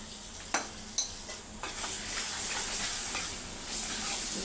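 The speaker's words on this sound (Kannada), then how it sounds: "ಪುಳಿಯೋಗರೆ ಪೌಡ್ರ್ ಹಾಕಿ ಸ್ವಲ್ಪ ಫ್ರೈ ಮಾಡಿ ಆಮೇಲೆ ಅದ್ಮುಂಚುಳಿ ಹಾಕ್ತೀನಿ" Puliyogare spice powder sizzles in a hot pan as it is stirred. Sharp scraping clicks come early, then a steady hiss of frying settles in and carries on alone at close range.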